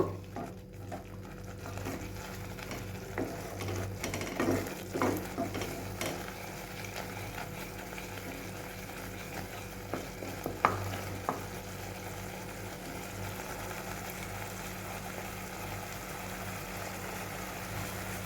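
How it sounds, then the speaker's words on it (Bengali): Spices with a small amount of Kashmiri red chili sautéing in a pan, a steady low sizzle with scattered scraping stir strokes and a clink or two, no talking. "এই মশলাগুলোকে একটু ভালো করে কষিয়ে নেব"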